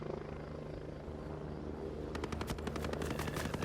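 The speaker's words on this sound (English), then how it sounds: "And they're shooting me." Automatic gunfire from a rapid-fire weapon in the shooter game Ghost Recon Breakpoint, a burst of quick regular shots breaking in over a droning engine-like background midway through.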